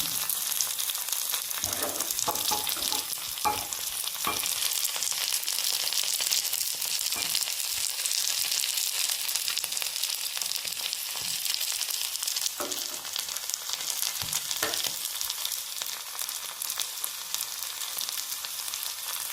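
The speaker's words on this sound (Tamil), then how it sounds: "இஞ்சியும் கருவேப்பிலையும் போட்டு இது நல்லா வந்து பொறியிட்டோம்" Ginger and curry leaves fry in hot oil for kara appam, a steady, close, bright sizzle that runs unbroken with a few soft crackles and stirring knocks and no voices.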